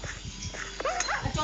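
Dogs in a video game bark and whine in brief yips over a steady background, with faint voices mixed in.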